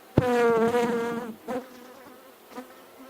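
Bees buzz around a hive during a colony inspection: one close buzz with a bright harmonic whine sweeps past, then shorter fainter passes follow.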